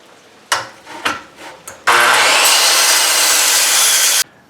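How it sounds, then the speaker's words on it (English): Scrap metal angle stock being cut for 2022 Toyota Tundra undercarriage cover plates: a few short scraping bursts, then a loud, steady, harsh grinding rasp held for about two seconds before stopping abruptly. "cutting up some scrap metal here"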